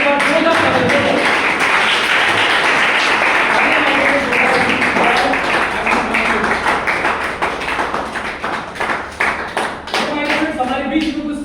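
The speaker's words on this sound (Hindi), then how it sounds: "एक बार जोरदार तालियां मिस्टर गौरव एंड अंकुश जी के बाद जोरदार तालियां।" An audience at a business plan presentation breaks into loud, brisk applause as guests are invited onto the stage. A speaker's amplified voice runs over the clapping, which thins toward the end.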